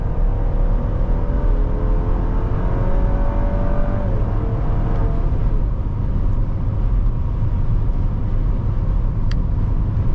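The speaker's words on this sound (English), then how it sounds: "let's go ahead and do an acceleration right here at 60 miles per hour." Steady, loud engine drone and road roar from inside a 2024 GMC Acadia SUV accelerating at highway speed around 60 mph, with a rising engine tone in the first seconds, heard alone.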